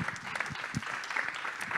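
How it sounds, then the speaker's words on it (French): Brief, steady audience applause for pitcher Lucas Soubéran at a startup business event, an even wash of clapping at moderate distance. "Merci d'applaudir Lucas Soubéran"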